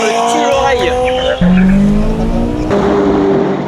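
A McLaren 570S of about 700 horsepower and a Lotus Eletre R of over 900 horsepower accelerate hard in a race, engine tones climbing through gear shifts with tire squeal, loud and close, while a voice talks over them.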